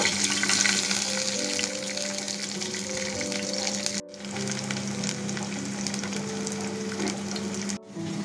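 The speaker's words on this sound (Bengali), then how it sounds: "এখন দিচ্ছি কুচি করে রাখা রসুন।" Chopped garlic and nigella seeds fry in oil with a loud, steady hiss and crackle, close up, broken twice by brief sudden drops before the sizzle resumes.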